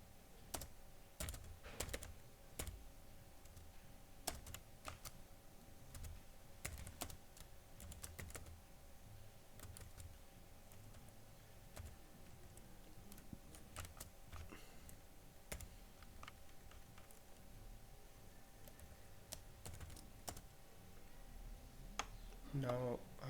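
Fingers type on a computer keyboard while a simple program is written, the keys clicking in quick irregular bursts at a quiet level, with a faint steady hum underneath.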